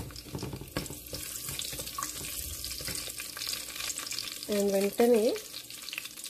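Green chillies sizzle and crackle as they fry in a pan with a piece of cinnamon, a continuous close hiss with a few clatters. Near the end, brief speech can be heard.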